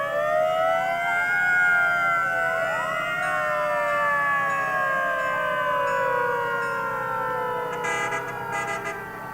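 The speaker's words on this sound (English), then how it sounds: "this is the fire chief's car" A fire chief's car siren in a town anniversary parade, wailing loud and close with several overlapping rising and falling tones held throughout, with no talk.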